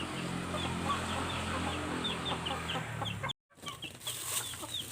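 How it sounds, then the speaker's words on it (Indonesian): Chickens clucking and chirping steadily nearby with a dense farmyard murmur, then a brief pause before the clucking resumes. "Kita kasih makan dulu ayam."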